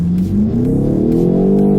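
A BMW X5M launching hard under launch control, its engine note climbing steadily in pitch as it accelerates away, loud and close, with no talking.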